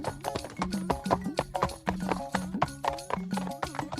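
Hoofbeats of a donkey running fast in an animated Hindi story, a quick, close, steady clip-clop rhythm repeating without a break over four seconds.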